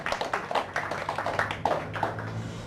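Light clapping from a small church congregation welcoming a visitor during a Korean worship service, scattered and uneven over a low room murmur, with a little talk mixed in.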